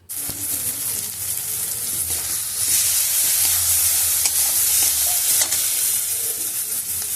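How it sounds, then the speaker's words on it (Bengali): Boiled dal stirred into a sizzling dhaba-style egg tadka in a pan, a steady loud sizzle and hiss with scraping stir strokes throughout, no talking. "সেদ্ধ করে রাখা ডালটা আমি এর মধ্যে দিয়ে দিলাম।"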